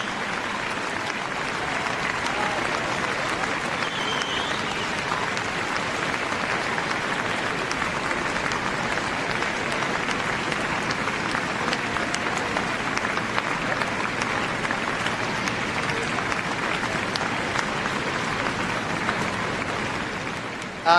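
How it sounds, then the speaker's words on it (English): An audience at the Crufts 2018 dog show keeps up loud, dense, continuous applause for the Best in Show finalists, sustained unbroken for about twenty seconds. "Keep clapping."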